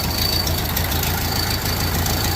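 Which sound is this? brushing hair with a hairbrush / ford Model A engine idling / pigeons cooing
ford Model A engine idling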